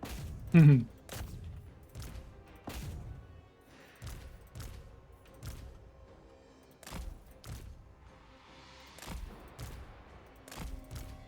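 Gunfire and artillery ring out in a Total War battle between Chaos Dwarf armies, sharp shots and booms repeating irregularly at moderate volume, with a brief whistling sound early and soft voices in between.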